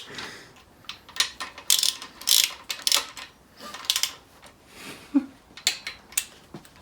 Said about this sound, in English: now we use a torque wrench